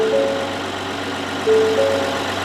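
A scooter engine idles with a light ticking. It gives a steady mid-pitched drone up close, with faint tonal whines and a small rise in level partway through.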